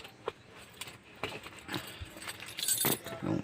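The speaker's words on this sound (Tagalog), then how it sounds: "Kunin muna natin yung susi." A set of keys jangling as they are picked up to start a vehicle, giving brief metallic clinks and rattles in scattered bursts over a few seconds, moderately close.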